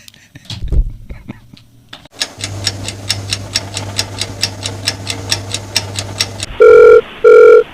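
A telephone ringing: after a brief soft voice and a pause, a fast repeated ringer pattern rises up, followed by two loud electronic ring bursts close to the mic.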